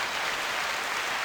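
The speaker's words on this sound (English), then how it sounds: "Oh wait, applause." Faint, steady applause patters evenly for a brief moment, soft and distant like many hands clapping together.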